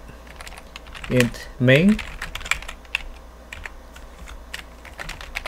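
Rapid clicking of a computer keyboard as C++ code is typed on Linux, steady close keystrokes running throughout with someone speaking briefly over them early on.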